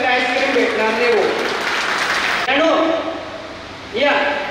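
Audience clapping at a reunion get-together of a 1990-91 school batch swells as a broad wash of hands in the first half, with loud voices talking over it and continuing after the clapping fades.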